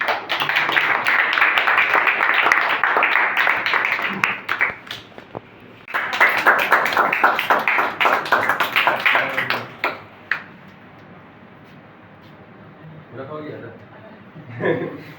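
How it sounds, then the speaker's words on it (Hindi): A crowd at a coaching institute's results celebration claps loudly for top-scoring high school students, with two bursts of dense clapping separated by a short pause and then a quieter stretch with a few voices. "और ये आप लोग अब जोरदार तालियां बजा सकते हैं।"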